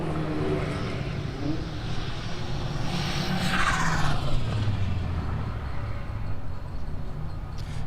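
Classic race cars, including a Honda CRX, sweep past at a circuit race meeting, their engine noise rising and falling in a continuous roar that swells as a car nears around the middle and then fades.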